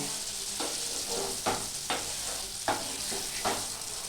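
Mutton keema frying in a pan with yogurt on low heat, a steady sizzle broken by several scraping stirs of the spoon at irregular intervals, close and moderately loud with no talking.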